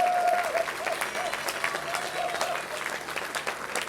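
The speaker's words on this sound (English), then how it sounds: "We can give him a big dedicated round of applause" A crowd at an outdoor hometown hero banner ceremony in Louisville breaks into sustained applause, dense steady clapping with scattered louder claps and cheers, loud and continuous throughout.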